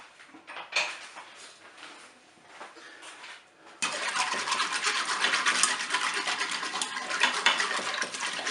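A whisk beats a mackerel mixture in a bowl for a Cookeo recipe, a soft scraping rhythm that turns into a louder, steady rapid clatter halfway through, close and with no voices.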